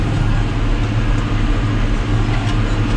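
A 7530 tractor pulling a 3-metre combination seed drill while sowing barley in a field, a steady heavy low engine rumble with mechanical clatter, loud and continuous.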